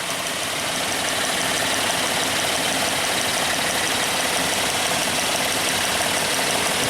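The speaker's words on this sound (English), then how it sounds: "we'll let the engine warm up a little bit more" A car engine idles steadily throughout, a constant even rumble with no talking.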